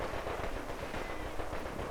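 Rapid machine gun fire in a World War II strategy game pitting British and US forces against the Wehrmacht, a dense continuous rattle of bursts with faint distant explosions underneath, no talk.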